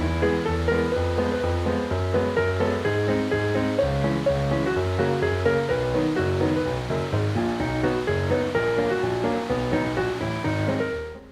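Rushing water of a mountain torrent between Hermillon and Le Châtel in Maurienne, a steady, loud, broadband roar filling the whole clip without pause and with no voices.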